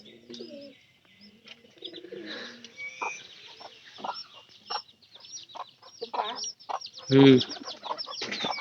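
Chickens cluck and chatter at close range after being let out in the morning, with scattered busy calls and one louder burst near the end, and a brief murmur from a person.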